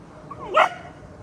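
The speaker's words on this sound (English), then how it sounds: "we're not gonna do barking. You are very, very well trained little girl. You are not gonna bark at cats." A single sharp bark from a small dog, nearby and brief, over a quiet background.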